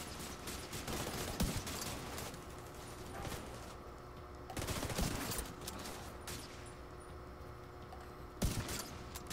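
Automatic turret gunfire in the video game The Division 2, with bursts of rapid shots layered over a dense, continuous battle soundscape and sharper loud cracks near the start, middle and end.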